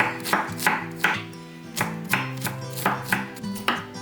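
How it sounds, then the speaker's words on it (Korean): Onion being finely chopped with a knife on a board for a ratatouille, a quick, even series of crisp knocks, close and clear with no voices. "양파는 잘게 썰어주세요."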